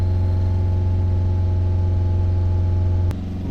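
The diesel engine of a Ford Transit Custom 2.2 van, which has a DPF fault, drones steadily at held revs around 2,500 RPM, loud and close, then drops slightly in level near the end.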